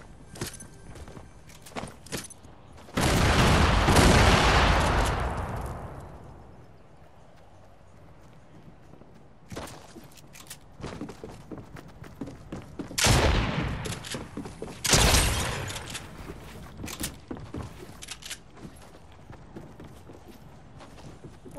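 Shotgun blasts in the Fortnite video game: a few loud, broad booms with decaying tails, spaced seconds apart, between stretches of rapid clattering footsteps and quieter game noise.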